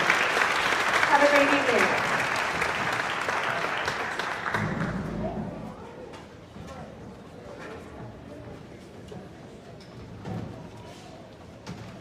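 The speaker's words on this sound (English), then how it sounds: "And another round of applause for our entire jazz band." Applause from an elementary school concert audience for the jazz band, loud clapping at first that thins and fades after a few seconds, with a voice talking over it.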